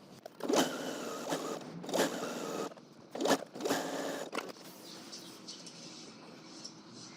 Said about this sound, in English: Now we're going to just stay stitch all around this entire neckline to prevent that from stretching.